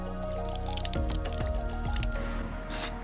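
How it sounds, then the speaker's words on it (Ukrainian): Water runs and splashes steadily as a fishing lure is rinsed under running water, with squishy wet handling sounds and drips, close and fairly loud, no voices. "Промиваємо в проточній воді."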